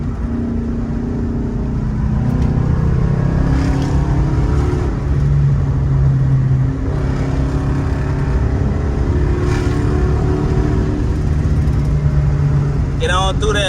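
Engines of an Audi TT and a Dodge Charger Daytona R/T racing on a road, a steady loud drone with rising revs and passing whooshes, sustained throughout with a brief sharp sound at the end.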